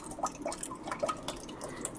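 Water pours and splashes into a water filter, a close, quiet run of bright drips and small splashes in quick irregular succession, no talking.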